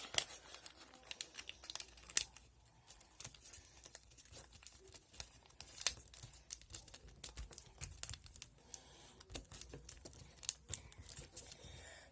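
Paper for an origami dinosaur is unfolded and refolded close by, giving soft crinkles and crisp creasing rustles that come in irregular bursts. The handling is quiet and nobody talks.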